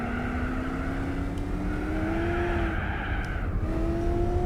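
A race car from Gran Turismo 4 drones steadily through its gears with a rising engine note and shifts, over a continuous tire and road rumble, loud and close without talk.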